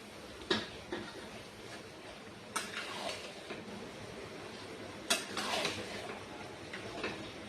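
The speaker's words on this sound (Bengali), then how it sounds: "আমি এই মাংসটা মেখে রেখেছিলাম, মাংসটা ঢেলে দেবো" Marinated mutton tipped into a cooking pot, with a few clanks of metal against the pot and soft scraping and stirring in a quiet kitchen.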